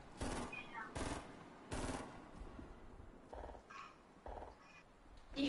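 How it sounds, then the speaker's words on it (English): Burst assault rifle fire in the Fortnite video game: several short, sharp volleys spaced about a second apart, fairly close and loud, with no talking over them. "You hear somebody with a burst assault rifle?"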